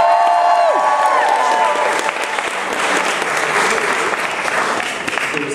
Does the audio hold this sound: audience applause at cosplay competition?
yes